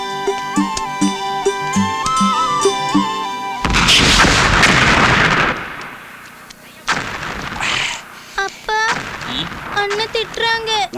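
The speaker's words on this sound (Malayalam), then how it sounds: "നീ എന്തിനടാ ഈ കതിനാ വെടി കെട്ടിച്ചിരിക്കണം?" Ceremonial kathina vedi firecrackers burst in a loud, heavy explosion that rumbles for a couple of seconds after a stretch of music, followed by further sharp cracks and excited voices.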